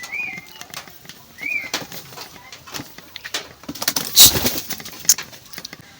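Pigeons in a loft coo softly with a few wing flaps and fluttering bursts nearby, a brief high chirp standing out; no one speaks.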